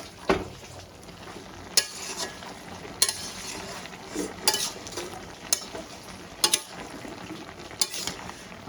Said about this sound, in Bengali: সুন্দর করে নেড়ে দিয়ে আবার আমি ঢেকে দেবো